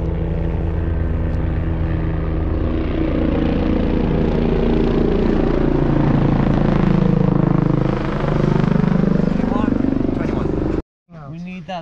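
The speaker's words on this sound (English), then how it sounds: "That's the chopper coming." A rescue helicopter approaches over a mountain bike World Cup course in mountain terrain, coming to airlift an injured rider. Its loud, steady rotor and engine drone fills the air for about eleven seconds before cutting off abruptly.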